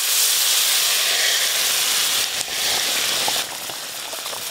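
Water-mixed spice paste sizzles loudly in a pan of frying rui fish, a steady dense hiss that barely eases toward the end, with no voices.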